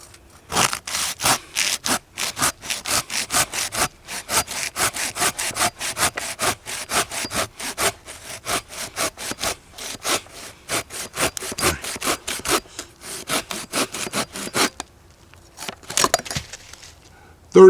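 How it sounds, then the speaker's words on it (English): A Lee Valley pocket pull saw with a fine blade cuts through wood in steady, evenly spaced strokes, a close rasping scrape repeated dozens of times before slowing and stopping near the end. "Remember, this is going to be a pull saw."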